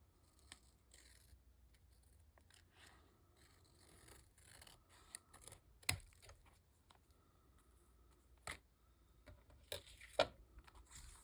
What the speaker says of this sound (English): Got a little bit of overhang. We'll trim that off.